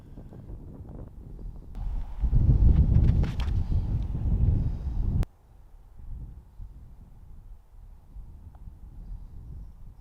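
Wind blows across a hillside disc golf course in Mijas, Spain, buffeting the microphone with a loud, rumbling gust for a few seconds before easing to a softer, steady whoosh.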